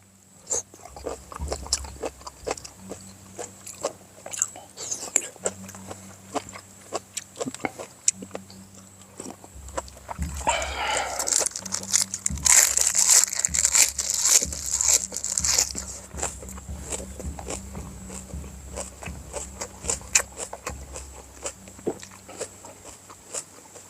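Crunchy bites and chewing on spicy Thai papaya salad eaten with fresh raw vegetables, close to the mic, with scattered crisp crunches that grow denser and louder midway, over a low steady background hum.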